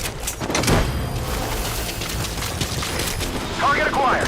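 Cover fire in Metal Gear Solid V on PC: a steady stream of machine-gun and rifle shots throughout, blending into booms, with radio-style voices over the shooting.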